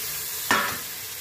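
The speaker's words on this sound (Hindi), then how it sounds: "अभी टमाटर डाल देते हैं" Tomatoes hitting hot oil in a pan with garam masala: a sudden loud sizzling burst that flares up and then settles into a steady hiss, with no talking.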